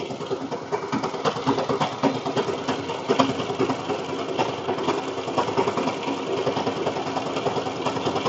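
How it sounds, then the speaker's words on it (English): A sewing machine running a zigzag stitch: a continuous rapid mechanical whir and clatter, steady and fairly close, with no talk. "when you're sewing zigzag stitch, it takes longer because it is going back and forth instead of just straight"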